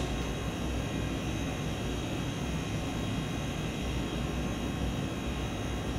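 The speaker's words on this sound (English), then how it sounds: "Once I turn the key switch, it's going to energize my reversing valve and the flow rate is going to reverse." A Hampden H-RST-2 refrigerant system trainer runs with a steady, even mechanical hum and hiss that holds at constant loudness throughout, with no voices over it.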